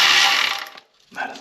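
Quick ratchet strokes tightening 13mm oil pan bolts on a 2012 Dodge Journey 2.4L, a loud close clicking burst, a brief pause, then more clicking.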